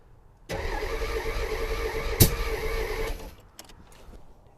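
A C4 Corvette bought from Copart, with vacuum lines left disconnected, cranks as the key turns: a loud, steady whirring drone runs for about two and a half seconds, broken by one sharp click, then cuts off, leaving faint clicks afterward.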